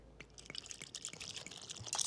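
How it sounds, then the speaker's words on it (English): A small amount of water is poured into flour and salt for tortellini pasta dough, giving a faint, brief trickle and splash that grows slightly louder at the end. "I'm just gonna add a little bit of water."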